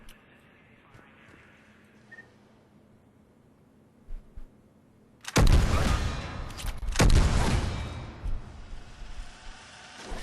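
Graal Spike Thrower shotgun from Mass Effect 3 firing at medium-long range: after several quiet seconds, two loud, close blasts with long rumbling tails, a few faint clicks before them.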